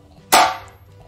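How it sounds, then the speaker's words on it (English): A single sharp drum strike with the snare and hi-hat struck together, loud and close, with a bright crack that rings out and fades over about half a second, no voices. "you have to hit the snare and the hi-hat together."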